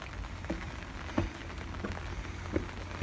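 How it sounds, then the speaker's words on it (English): Light rain falling in Seoul during a steep urban hike, sparse faint raindrops ticking on surfaces against a soft outdoor hush. "we're getting a few raindrops"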